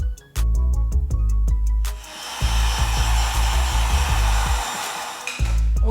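A heat gun blows a steady, loud airy roar while shrinking heat shrink tubing over soldered wires on a 2019 Yamaha YZ450FX build, with rhythmic electronic clicks and thumps beneath it.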